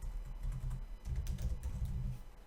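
Soft, quick clatter of keys being typed on a computer keyboard, close and quiet, with uneven bursts of keystrokes over a low background hum.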